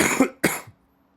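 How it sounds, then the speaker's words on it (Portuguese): Two quick, loud coughs close to the microphone, one right after the other, then near silence. "vamos tossir, normal tossir"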